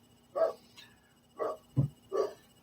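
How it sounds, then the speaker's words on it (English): A dog named Doof barks a few times at a homestead, three or four separate single woofs spaced roughly a second apart, fairly close and moderately loud over a quiet background. "now that Doof is barking, he must be saying we're done"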